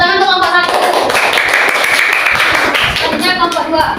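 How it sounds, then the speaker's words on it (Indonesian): Students in a classroom clap for the first group, a dense patter of many hands, with voices talking and calling out at the start and end. "Ya, tepuk tangan untuk kelompok 1."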